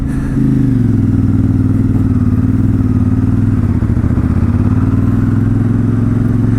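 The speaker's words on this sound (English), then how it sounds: "So that was a second gear start on a hill, purely because I'm not used to the bike" A CFMOTO 450MT motorcycle pulls away uphill in second gear, its engine droning steadily and loudly close by with a low, even mid-range throb that rises slightly as it accelerates.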